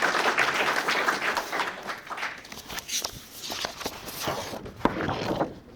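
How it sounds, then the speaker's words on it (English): An audience applauding student leaders at a Black History Month award ceremony, a sustained wash of many hands clapping that tapers somewhat toward the end, with shuffling footsteps mixed in. "can we clap it up one more time for these amazing, amazing leaders"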